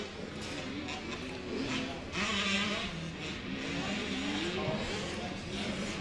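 Motocross bikes, a KTM among them, race through an uphill triple at a 2014 AMA Arizona Open, engines buzzing and revving steadily throughout with a rising surge in the middle, while a commentator talks over them.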